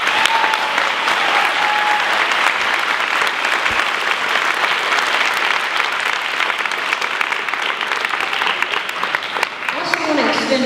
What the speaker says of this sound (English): can we just, in her absence, give her a round of applause?